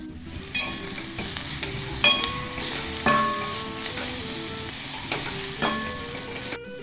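Jaggery is stirred into roasted coconut in a hot pan. A steady sizzle runs under repeated scraping strokes of a spoon against the pan, with a loud scrape every second or so. The sound is close and there is no talking.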